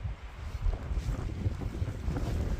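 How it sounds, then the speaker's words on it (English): Wind gusting outdoors over a garden, a steady low broadband rush that swells and buffets the microphone throughout, fairly loud and continuous with no voices. "you can hear it. The wind is picking up."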